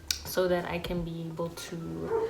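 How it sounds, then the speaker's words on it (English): A dog outside whimpers and gives soft yips, somewhat distant, partly under a woman's speech close to the microphone. "If you guys hear dogs outside"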